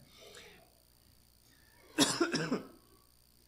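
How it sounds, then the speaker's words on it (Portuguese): A short burst of several quick coughs, close and fairly sharp, preceded by a faint murmur and near silence. "Eu agradeço aqueles que estão tossindo"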